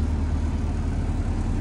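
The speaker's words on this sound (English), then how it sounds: "Engine catches and bus comes on." A diesel bus engine idles steadily just after starting, a continuous low, heavy rumble that stays close and even throughout with no talking over it.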